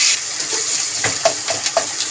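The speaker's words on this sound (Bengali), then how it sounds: "একটু নুন দিয়ে দেবো, দিয়ে পেঁয়াজটাকে ভালো করে ভেজে নেব" Grated onion with a little salt sizzles in a pan for fish head curry, giving a loud, steady close hiss with faint scattered pops and no talking.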